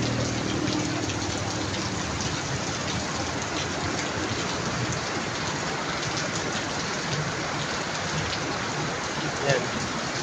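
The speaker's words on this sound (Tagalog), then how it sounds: "Lakas ang ulan." Heavy rain pours down steadily, a dense, continuous roar of water hitting surfaces with no let-up.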